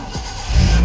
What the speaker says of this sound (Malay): Dan lepas tu kita start engine geng.